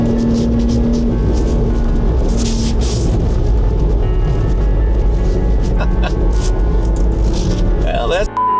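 A Ford Bronco Raptor in Baja mode drives and drifts through fresh snow, its engine rumbling low and steady while tires crunch and hiss over the snow. Someone talks over it throughout.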